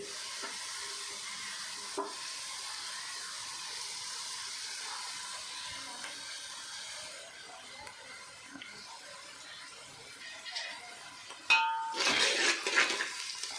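Onions and chillies fry in a pan, a soft steady sizzle with occasional clinks as they are stirred, ending in a burst of louder scraping and clattering near the end.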